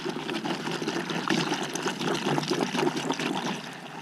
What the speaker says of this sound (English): First thing I'm going to do is dump this water in here